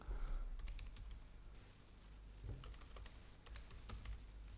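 Typing on a computer keyboard while installing a crypto wallet: quick, irregular clicking keystrokes in short bursts, close and fairly quiet, with no talking.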